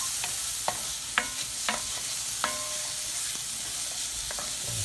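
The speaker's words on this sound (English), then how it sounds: "I'm just gonna go ahead and saute up this a little bit" Risotto rice sautéing in a hot pan, a steady sizzle with several sharp clinks and scrapes of a utensil stirring the grains, no voices.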